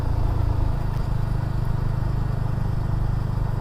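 Benelli TNT 25 motorcycle engine, 2023 model, revving steadily at low RPM as the throttle opens, a continuous close, loud mid-pitched drone with a firm low rumble and no voices.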